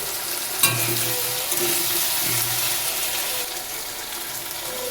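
Sliced tomatoes with green chillies fry in a pan for a red lentil dal, giving a steady close hiss of sizzling oil with a few soft clinks and stirring scrapes, and no talking.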